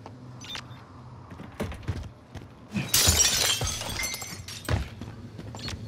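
Glass shatters inside a building in Call of Duty: Modern Warfare, a single loud crash with a bright spray of breaking shards about midway, set against quieter game ambience with scattered thuds before and after.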